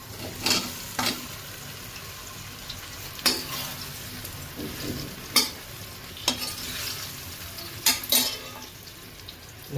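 Mustard seeds crackle and pop in hot oil as a dhokla tempering is made, with sparse sharp crackles over a soft steady sizzle and no talking.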